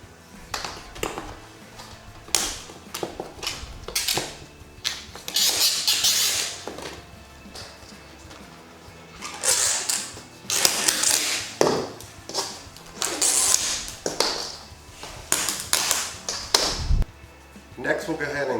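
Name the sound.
old vinyl seal being pulled out of pop-up camper roof track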